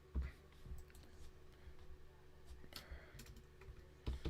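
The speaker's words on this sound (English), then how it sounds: "while I'm typing away?" Typing on a computer keyboard at a desk: quiet, irregular clicks and taps close by, with a few louder keystrokes at the start and end and a faint hum in the background.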